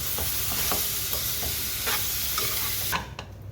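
Boiled potatoes are tipped into a pan of spiced potato masala palya and stirred, giving a steady sizzle with several scraping strokes of a spoon. Near and moderately loud with no talking, the sizzle dropping away sharply near the end.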